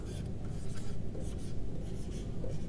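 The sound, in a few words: writing numbers on a board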